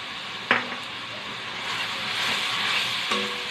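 Ground cumin, turmeric, chilli and coriander powder sizzle in a pan for chana masala, giving a soft hiss that swells and fades, with two sharp utensil knocks and light stirring, close and fairly quiet.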